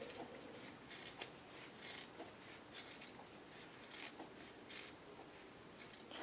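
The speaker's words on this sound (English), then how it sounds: "I use my fabric scissors for this" Fabric scissors snip through fabric to cut out circles for an altered book craft, giving a steady run of soft, close, crisp rasping cuts with no talking.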